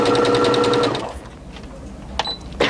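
Brother A150 sewing machine running a zigzag stitch on fabric, a steady rapid mechanical chatter for about a second that then stops, followed by a couple of faint clicks and handling noises.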